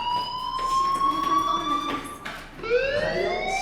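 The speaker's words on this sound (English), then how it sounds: "Hey, do you hear that fire alarm?" A fire alarm in the Life Is Strange video game wails in a loud, steady electronic tone, then shifts into a new rising whoop, close and with no talking over it.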